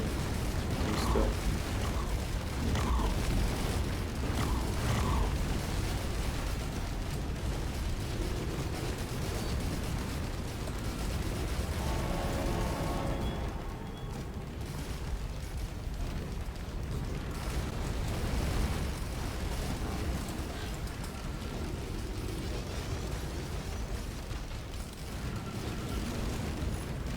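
Explosions from Risk of Rain 2 during a Commando run, heard as a dense, continuous barrage of booms and bursts over game noise for the whole stretch.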